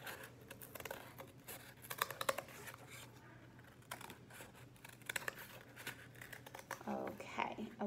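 Scissors cut out a piece of cardboard for a DIY spinner, producing a run of close, crisp snips and rough crunching strokes over a low background hum, with a soft voice faintly present.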